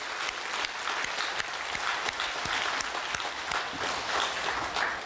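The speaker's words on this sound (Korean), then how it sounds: "우리 하나님께 영광의 박수, 감사의 박수" A church congregation clapping in unison as an offering of praise during a sermon: dense, steady applause from many hands that fills the room evenly and keeps going without a break.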